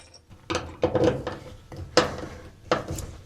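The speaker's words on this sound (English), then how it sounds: "There's already a screw in its place, so we need to remove that screw." A tight screw being worked loose from the door bracket of an LG EasyLoad dryer, heard as a handful of sharp metallic clicks and ratcheting scrapes, close and fairly quiet, with short gaps between turns.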